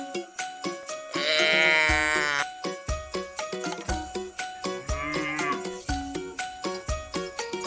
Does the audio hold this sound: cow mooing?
yes